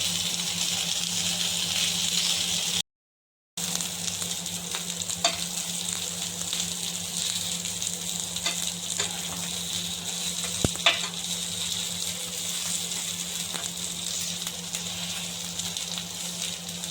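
Mutton chops fry in oil in a pan, a steady, close, dense sizzle that runs throughout, with a brief dropout and a few faint clicks from the pan.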